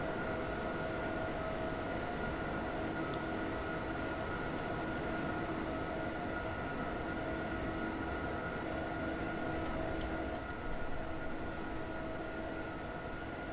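A train in Train Simulator rumbles past steadily on a Zurich to Vienna mountain pass route, a continuous low roar and faint tonal hum, sustained and unbroken for over ten seconds, no voices.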